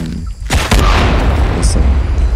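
A single explosion in the video game Shadow of the Tomb Raider, a sudden loud boom followed by a sustained rumbling roar that holds steady to the end.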